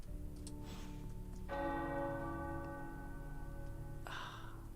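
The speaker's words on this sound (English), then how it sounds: "The tower bells are ringing." Tower bells ring out in a video game, with one strong, resonant strike that hums and sustains for a few seconds before a second strike sounds, over a quiet, steady background.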